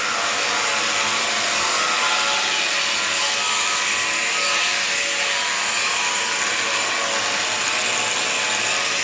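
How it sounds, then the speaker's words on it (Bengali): A heavy vehicle chassis is cut with a power tool, making a continuous loud, harsh grinding whine that holds steady throughout with no breaks, and no one speaks over it. "ছয়ের চ্যাসিস কাটা চলছে"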